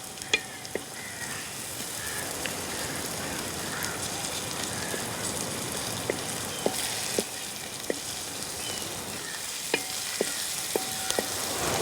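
Butter prawns frying in a pan for a village-style Kerala recipe, a steady close sizzle with occasional sharp clicks and taps of a utensil, no talk.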